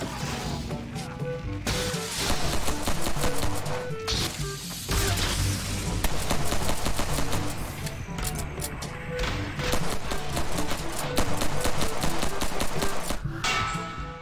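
Glock pistol fire in a VR game, rapid close shots crackling in dense rhythmic bursts across most of the stretch, loud and near, with brief pauses between volleys.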